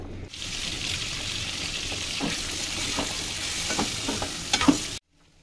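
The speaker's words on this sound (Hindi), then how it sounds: "अब चिकन डालेंगे।" Marinated chicken for biryani hits hot oil in a pan and sizzles loudly and steadily up close, with scattered pops and stirring scrapes, before cutting off abruptly.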